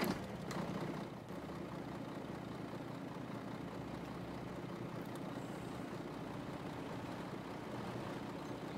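A truck engine in Farming Simulator 2013 gives a brief starting rumble, then settles into a steady, low, droning idle that holds evenly throughout, with no voices.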